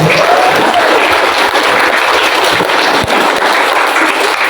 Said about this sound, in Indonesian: Pak Direktur dan Ketua Yayasan Pak Raden, tepuk tangan yang meriah dulu untuk Pak Direktur.